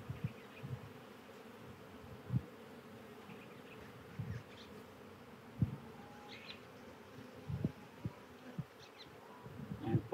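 Honeybees buzzing steadily around frames shaken outdoors at a hive during queen-rearing work, a continuous near drone with scattered louder passes of individual bees and occasional soft knocks.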